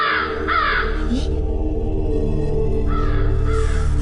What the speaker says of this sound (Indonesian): Ibu dengar suara burung kedasi itu enggak, Bu?